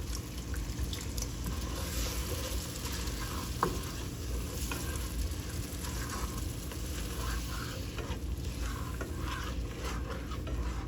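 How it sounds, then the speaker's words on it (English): Vegetable broth goes into a hot pan for a seafood boil, giving a steady, close sizzle with soft bubbling, stirring scrapes and one brief clink near the middle, without any talking. "So now we're just gonna hit it with some vegetable broth, about 1 cup of vegetable broth"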